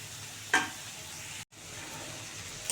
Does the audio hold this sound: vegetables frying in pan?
yes